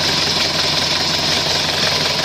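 A Nissan pickup's red-top diesel engine running steadily at idle, a loud, close, continuous rumble with a faint knocking texture and no talking.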